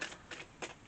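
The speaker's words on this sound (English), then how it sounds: "I'm going to take 3 more shuffles" Tarot cards shuffled by hand, three short riffling bursts spaced evenly, quiet and close with no talking.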